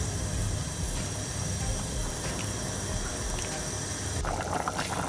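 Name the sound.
soup boiling in a pot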